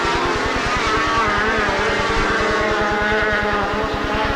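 Formula 500 race cars roar around the dirt oval at Speedway City Adelaide, a loud, rasping engine drone with a rapid pulsing rhythm that stays steady and close, with no voices over it.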